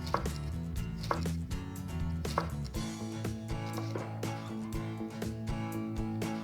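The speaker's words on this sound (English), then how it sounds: "So here's our bok choy. We're cutting it in half, this baby. We're just gonna cross-cut slice it." A knife cross-cuts halved bok choy on a board, giving a run of close, crisp, irregular chops, with tonal background music underneath.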